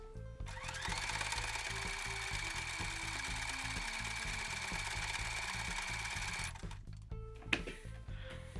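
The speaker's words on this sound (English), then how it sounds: "I'm gonna sew across here in a zigzag stitch" Sewing machine running a zigzag stitch across T-shirt fabric, a steady rapid mechanical whir and needle chatter for several seconds before stopping, followed by a few small handling clicks.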